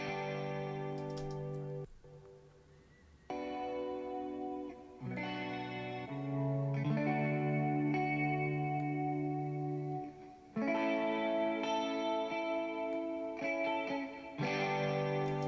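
Sustained electric guitar chords ring out with heavy reverb and a chorus-like shimmer, each new strum swelling over the decaying tail of the last.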